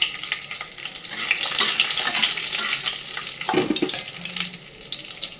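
Cashews and raisins go into hot white oil in a kadai over lowered gas, producing a loud, dense hissing fry with watery spatter and a brief stirring scrape partway through.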